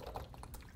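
Water trickling and dripping into a coffee maker's reservoir, a short, soft, close pour with small splashing drips.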